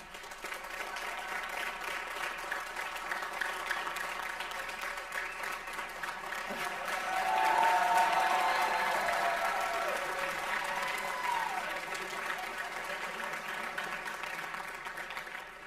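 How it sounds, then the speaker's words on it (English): A modest crowd at a spring sports awards event claps for the team, a moderate, steady patter of applause that swells briefly in the middle, with faint voices underneath. "Give yourself a round of applause."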